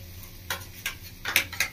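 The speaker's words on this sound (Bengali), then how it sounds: "জলটা দিয়ে আস্তে আস্তে এভাবে মিলিয়ে নেবো" A spoon stirs water slowly into yogurt in a pan for a Bengali village-style doi begun, giving four or five short, close scraping clinks of metal against the pan with quiet gaps between them.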